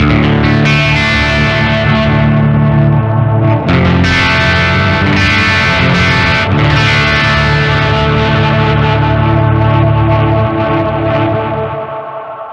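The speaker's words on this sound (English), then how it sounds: "you can hear the multi-filter going there" Heavily processed electric guitar through a multi-filter pedal effect, drenched in sweeping filter and distortion effects, dense and loud throughout, the tone shifting and warbling before fading at the end.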